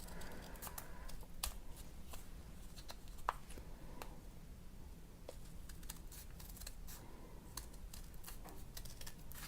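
Scissors cut through a stack of eight paper sheets for a 3D egg bunny ornament, making scattered crisp snips and soft crunches close by against a faint background hiss, with no talking.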